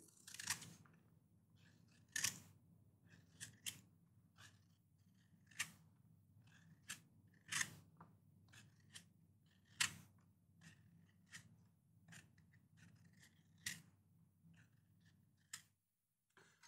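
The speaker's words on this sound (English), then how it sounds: "I'm also going to peel the pear" A knife peeling a pear, producing a series of sharp, dry scraping clicks at irregular intervals, fairly close and faint against a quiet background with no talking.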